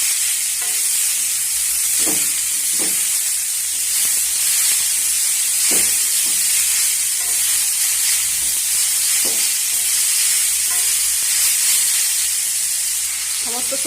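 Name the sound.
stir-frying potato, carrot, beet with onion and chilli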